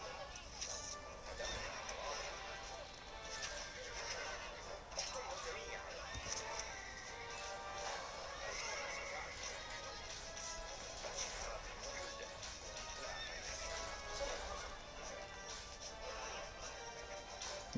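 Horses in the medieval strategy game Stronghold Crusader whinny and neigh repeatedly, with clip-clop hooves and battle clatter underneath, moderately loud throughout.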